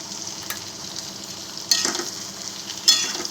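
Okra frying in a pan with spices and crushed peanuts, a soft continuous sizzle with a few scraping stirs of the spoon, close and quiet, without speech.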